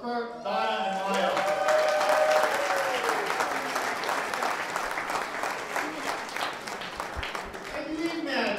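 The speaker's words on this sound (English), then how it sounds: "How about a round of applause for Kirk," A fundraiser crowd applauds Kirk, Donna and Maya, the clapping rising quickly into a full, steady ovation over a voice still talking, then gradually thinning toward the end.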